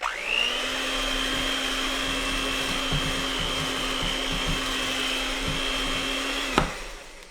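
An old turbo blender whirs up sharply and blends pumpkin cream cheese dip in a loud, steady motor whine for about six seconds, then cuts off with a clunk.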